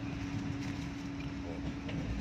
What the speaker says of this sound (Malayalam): ട്രെയിൻ അല്പം സ്ലോയിലാണ് പോകുന്നത്.